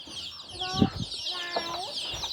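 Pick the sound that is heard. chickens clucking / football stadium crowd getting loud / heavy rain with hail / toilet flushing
chickens clucking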